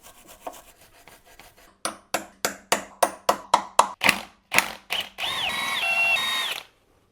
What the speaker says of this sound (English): These bolts are kind of rusty, so we need to give them a good brush so we can remove them.